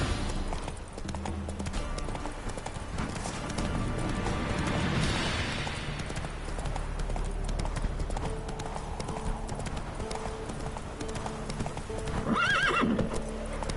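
Roach, the horse in The Witcher 3, gallops with loud, rapid hoofbeats, then whinnies sharply near the end, all over busy in-game background sound.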